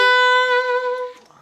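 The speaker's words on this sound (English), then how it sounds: "The major 7 chord sounds like this." A saxophone sounds a short, bright note from a major 7 chord, held clear and loud for about a second before it fades, with no talk.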